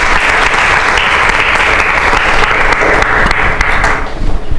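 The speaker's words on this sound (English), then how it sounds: "Let's all give a big round of applause to Professor Paul Lodge for" Lecture audience gives a sustained round of applause after a talk on Leibniz's views on science and religion, dense crowd clapping held loud for several seconds before thinning near the end.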